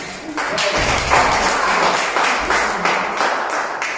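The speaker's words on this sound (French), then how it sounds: "On peut applaudir." A small audience claps in uneven, distinct hand strikes rather than a dense roar, fairly close and steady for a few seconds.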